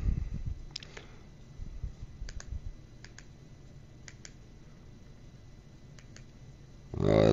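A computer keyboard connected to an Nvidia Shield TV gives a few light, sharp key clicks in quick pairs, spaced about a second apart, faint over a low room rumble.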